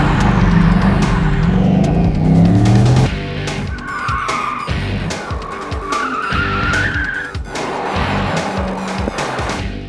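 A 2005 Chevrolet Corvette C6 drives hard, its loud engine roaring and revving while tires squeal and skid through several sharp bursts, with no voices over the racing sound.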